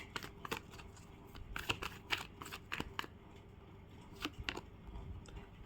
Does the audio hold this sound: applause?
no